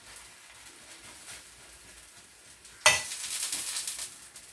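Rava uthappam batter hits a pan over a medium flame. After near silence, a sudden loud sizzle bursts in and continues as a steady crackling hiss to the end.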